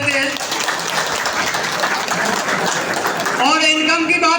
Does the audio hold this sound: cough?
no